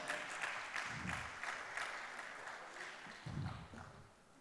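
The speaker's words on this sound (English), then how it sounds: "Can we all give him a huge round of applause" Audience applause at a conference session, a fairly soft spread of clapping that rises and falls over several seconds with faint crowd murmur beneath it.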